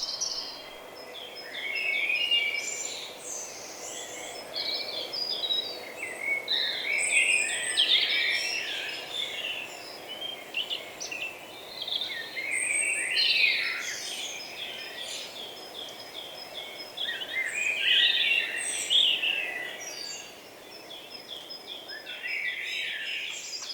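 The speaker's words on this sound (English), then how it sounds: "here is my own dawn chorus in High Barnet" A lively dawn chorus of many birds singing and chirping together outdoors in High Barnet, overlapping songs rising and falling continuously at moderate distance.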